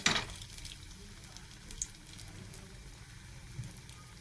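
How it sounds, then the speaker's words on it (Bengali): Lentil dumplings (dal bori) frying in hot oil give a soft, steady sizzle with faint crackles throughout, quiet and unaccompanied. "আমি ডালের বড়ি ভাজবো"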